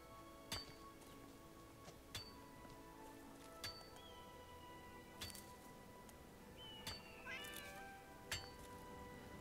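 A cat meows several times at irregular intervals in a fantasy role-playing game, short faint mews over a quiet, steady background hum with no talking.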